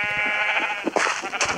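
Repeated sheep bleats from a farm-themed puzzle video game, loud and close, overlapping in quick succession over a steady tonal background.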